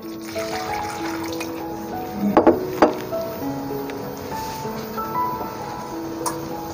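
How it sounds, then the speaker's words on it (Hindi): Water is poured and stirred into a flour and gram flour batter for potato cutlets, with soft irregular liquid sloshing and a couple of sharp clicks of a utensil against the bowl, close by. "और पानी शामिल करते हैं।"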